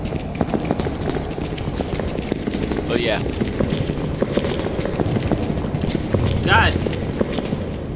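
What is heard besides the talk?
footsteps in a horror video game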